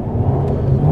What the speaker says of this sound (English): a very sweet four-cylinder burble